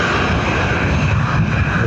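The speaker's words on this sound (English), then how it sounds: "Aer Lingus off to Madrid." An Aer Lingus jet airliner departs Dublin Airport for Madrid, its loud, steady engine roar rumbling close and unbroken for the short stretch.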